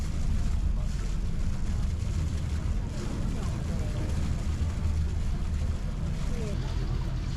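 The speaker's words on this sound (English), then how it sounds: "The boat departs and we head across Lake Geneva to pick up a few more passengers" A steady motor drone with rushing wind and water noise from a tour boat cruising across Lake Geneva, constant and loud throughout.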